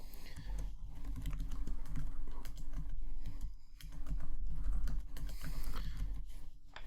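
Rapid, close keystrokes clatter steadily on a computer keyboard, with brief pauses between bursts of typing.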